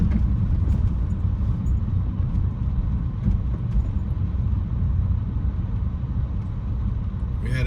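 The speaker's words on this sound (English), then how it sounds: "If you hear all that rattling and stuff, that's because the bumps is moving the camera" A car drives over a rough, bumpy downtown street in Camden, Arkansas, with a steady close cabin rumble and loose camera rattling running continuously under the road noise.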